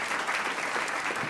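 A television show studio audience claps in a brief, even burst of applause, moderately loud and steady for its whole short length.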